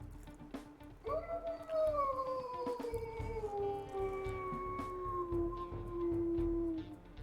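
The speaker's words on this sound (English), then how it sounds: "So he got a very high-pitched howl." A high-pitched wolf pup howl from the video game WolfQuest rises sharply, then holds and slowly falls in a long, clear, wavering tone lasting about six seconds over faint background noise.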